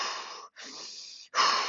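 Steady, close breathing of a person holding a plank exercise: long airy exhales and inhales in three runs with brief pauses between, the last breath the loudest.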